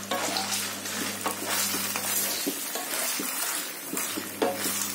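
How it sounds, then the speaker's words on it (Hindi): Paneer sautéing in ghee in a kadhai over a high flame, a continuous close sizzle with occasional soft stirring scrapes and a low steady hum beneath. "अब इसमें जो है हमारा ये पनीर डाल देंगे हम इसे हाई फ्लेम पे सोते करेंगे।"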